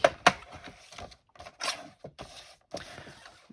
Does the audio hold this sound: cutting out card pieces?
yes